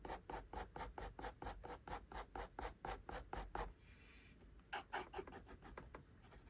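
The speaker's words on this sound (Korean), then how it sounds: "그리고 다시 양쪽을 한 번 더 어둡게 쉐딩을 해줍니다." Pencil shading on paper while darkening both sides of a drawn eye, a steady run of quick rhythmic back-and-forth strokes, close and soft, pausing briefly before a few more strokes.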